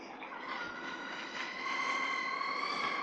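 A 72-volt mid-drive e-bike motor spinning up, giving a rising whine with layered high tones that climb in pitch over a few seconds, steady and fairly close with no talk.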